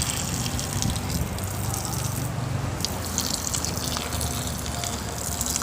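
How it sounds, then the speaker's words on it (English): A jungle waterfall near a beach gushes in a steady, dense rush of falling water, continuous and moderately loud with no voices. "there appears to be a waterfall in this area"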